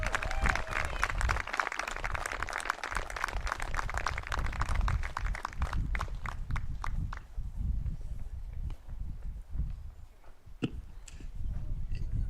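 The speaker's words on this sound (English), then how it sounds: "big round of applause, special senior Shelby Cooper" Crowd applause at a high school softball senior recognition ceremony, many hands clapping outdoors that start full and thin out to scattered claps and a few isolated ones near the end.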